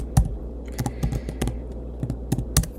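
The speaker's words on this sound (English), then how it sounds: "I'm going to type in investing calculator." Typing on a computer keyboard: close, distinct key clicks in short irregular bursts, about a dozen presses with brief pauses, with no talking over them.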